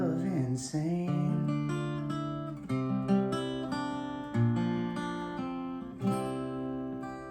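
Acoustic guitar strumming the chorus of a song, with steady chords ringing close and clear and a few sharper accented strokes, played alone without talk.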